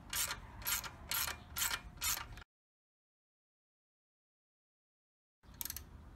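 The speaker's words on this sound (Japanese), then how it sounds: "12ミリ、ソケットレンチ使ってます。" A 12 mm socket wrench ratchets on a Honda CRF250L motorcycle with five quick, evenly spaced clicking bursts, then falls silent for about three seconds before another short ratcheting spurt.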